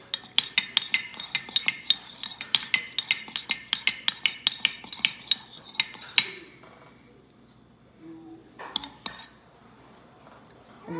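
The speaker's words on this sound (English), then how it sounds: "you just want to stir and get it all mixed in together" A spoon clinks rapidly against a bowl as a mixture is stirred together to make rose chocolate for coating strawberries, a quick run of sharp close taps that slows, pauses, then gives a few final knocks.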